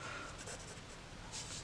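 A pencil scratches softly across paper while a robin is being sketched, a faint, close, continuous rasp with slight rhythmic strokes.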